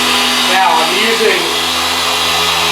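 A car polisher whirs steadily at speed 6, pressed hard against the paint with a constant, loud motor drone and small shifts in pitch as it moves, with no talk over it.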